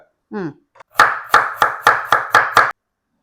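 A knife chops through potato and carrot on a cutting board in a home kitchen, giving seven sharp, evenly spaced chops close by after a short vocal sound at the start.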